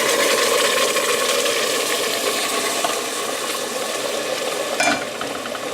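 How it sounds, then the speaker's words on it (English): Boiled water poured into a hot pan hisses and sizzles loudly and steadily from start to finish, a close, dense crackling spray with a brief flare near the end. "just be very careful when pouring in the water, because it will sizzle up"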